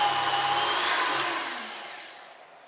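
A KitchenAid mixer runs its pasta machine attachment set to level 2, rolling gum paste for a sugar rose, with a loud, high motor whine that gradually winds down and fades out.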